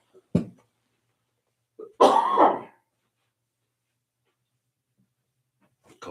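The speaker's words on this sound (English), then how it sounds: "Coughing while having coffee." Two separate coughs, a short one near the start and a heavier, longer one a moment later, with quiet between and another starting at the end.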